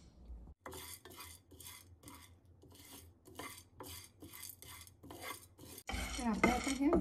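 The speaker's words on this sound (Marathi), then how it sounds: "आपण आता खूप डाळ भाजून घेऊया" A spoon or spatula scrapes and stirs dal roasting in a dry pan, giving rhythmic close scraping strokes in regular bursts, followed by a louder stretch of clattering and rasping at the end; no talking.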